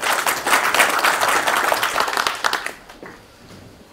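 An audience at an inauguration ceremony at Nonsan Cultural Center claps enthusiastically for a few seconds, then the applause quickly dies away into near silence.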